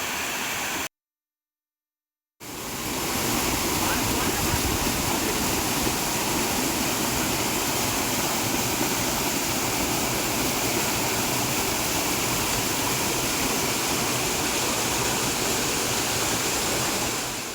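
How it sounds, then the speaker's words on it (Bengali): Bamni Falls in Purulia, its water as a broad steady roar and rush that fills the whole clip after a short silent break at the start, continuous and unchanging, with no voices. "পাখির ডাক আর দূর থেকে ভেসে আসা জলের শব্দ"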